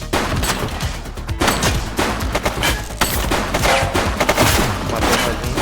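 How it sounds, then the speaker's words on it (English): Gunfire in the police video game Precinct: rapid bursts of loud shots crackle in dense, uneven volleys, close and sharp, with brief gaps between clusters and no talking. "He's shooting!"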